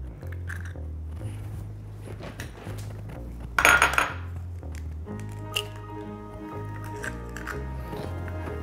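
Two eggs cracked open in a kitchen while making a Taiwanese rice ball, with a sharp burst of shell cracking and cracking clatter against a bowl amid light kitchen clinks and a steady low hum.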